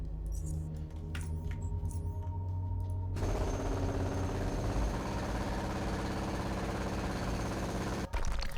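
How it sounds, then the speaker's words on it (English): A jackhammer breaking down a wall in the Underrail video game, starting after a few seconds of quieter sounds and then hammering loudly and continuously before a brief break. "So this wall we can break down with our jackhammer."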